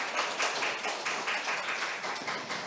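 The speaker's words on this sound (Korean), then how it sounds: "다시 한번 큰 박수 부탁드립니다." An audience at a panel event gives a burst of dense, sustained clapping. The applause is steady and even, with no voices over it.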